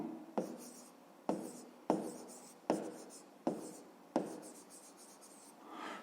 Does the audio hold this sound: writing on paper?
yes